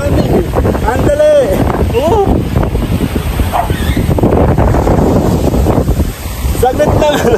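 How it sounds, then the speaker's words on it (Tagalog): Strong stormy wind roars steadily across the microphone at Pugad Lawin in Pagbilao, Quezon, a loud, unbroken rush with a person's brief startled exclamation over it. "Ang lakas ng hangin, nakakatakot!"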